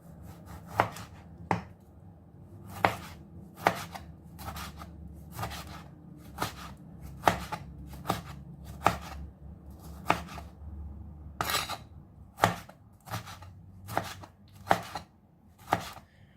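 A knife chops tomatoes on a board in crisp, close strikes. The cuts come in uneven bursts with short pauses between them, and no one talks over the chopping.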